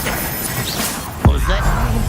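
A Confringo fire spell blasts in Hogwarts Legacy, one sudden loud crack and whoosh with a lingering rumble, while game voices talk around it.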